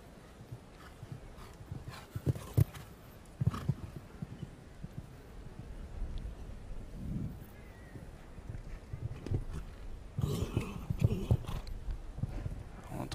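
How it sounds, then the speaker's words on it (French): Show jumping horse at the Aachen Grand Prix, 2016, straining as it lands and strides between fences: hoof thuds and heavy effortful breathing come in uneven bursts over a busy arena backdrop, with a few louder impacts. "On entend le cheval forcer."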